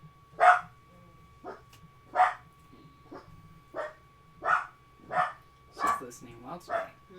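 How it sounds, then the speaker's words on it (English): A dog named Salty barks about eight times in separate sharp bursts spaced roughly a second apart, fairly close, with a faint steady hum underneath and no talking. "Salty, what are you barking at?"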